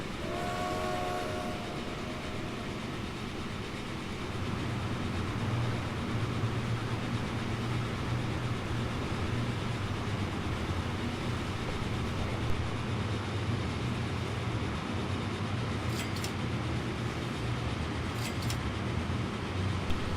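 Video game trains rumble steadily along the track with a continuous low roar, a horn sounding briefly at the start and faint clicking later.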